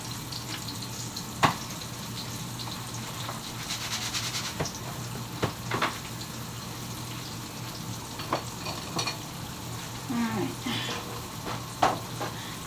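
Cubed steak frying in a pan, two pieces at a time, giving a steady low sizzle with a few light clicks and scrapes, close by and with no talking.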